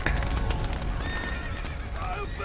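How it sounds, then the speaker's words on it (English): Horses whinny and stamp in a collapsing, burning barn in the video game The Witcher 3. Shrill neighs rise over a dense, noisy background while hooves clatter. "Horses!"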